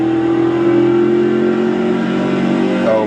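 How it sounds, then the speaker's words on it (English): Race car engines in the iRacing sim racing game, a loud, sustained high-revving drone held nearly steady, with a brief pitch shift at the end. "These cars are loud."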